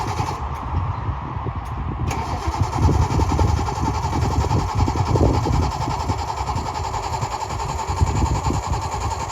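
A Jaguar E-Type low-drag car with a freshly repaired exhaust starts up and runs at a steady, throaty idle, loud and close, with a brief click before the engine catches.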